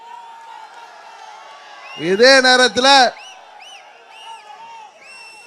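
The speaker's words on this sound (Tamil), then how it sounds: "ஆரவாரம் செய்கிறீர்கள்." A dense crowd roars and whoops at an outdoor election campaign rally, a loud burst of cheering lasting about a second, then fading into scattered calls beneath a man's amplified speech.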